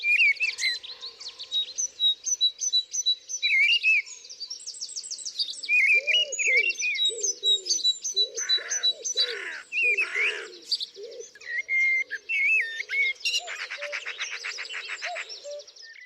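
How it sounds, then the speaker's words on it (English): Garden birds singing in March, with bright chirps and trills layered over repeated low cooing from a pigeon or dove, steady and fairly close with no talking. "birdsong is the soundtrack to my gardening"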